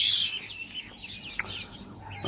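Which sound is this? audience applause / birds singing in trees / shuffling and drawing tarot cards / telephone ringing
birds singing in trees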